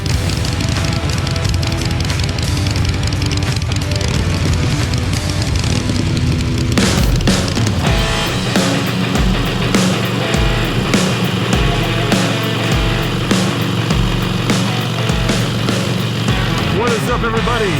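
Harley-Davidson Iron 883 Sportster motorcycle rolling along a road, its engine a steady low rumble that swells after a few seconds as it pulls away, with strong wind buffeting throughout.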